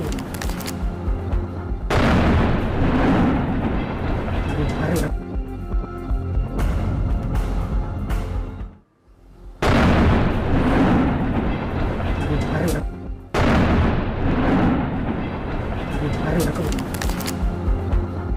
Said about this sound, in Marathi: रिमोट कंट्रोल IED वापरून पाकिस्तानी लष्कराचं वाहन उडवण्यात आलंय